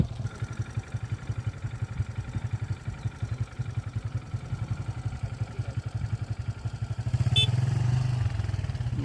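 A motorcycle ridden on a rural road in Bangladesh, its engine putting out a steady rapid pulsing throb throughout, with a brief rise in revs and a short rattle near the end.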